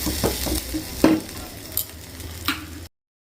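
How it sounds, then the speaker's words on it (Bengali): An omelette fries in a small kadai, a quiet steady sizzle broken by a few sharp clinks and scrapes of a utensil against the pan, close by, ending abruptly. "ছোট্ট কড়াইতে অমলেট"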